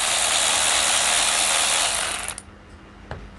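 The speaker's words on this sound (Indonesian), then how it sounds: "Memang karakteristik ratchet cordless itu seperti ini." Close, loud whirring of a cordless ratchet running continuously, then stopping, followed by a couple of faint clicks in the quiet.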